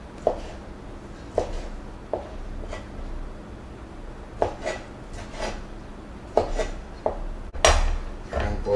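A knife chopping shrimp into small pieces on a board, with distinct close, sharp taps in irregular bursts and a louder clatter near the end, with no talking.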